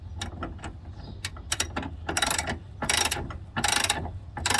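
A ratchet tightens a battery bracket screw on a Chevy truck in several bursts of sharp, close clicking, with the later strokes longer and denser and no one talking.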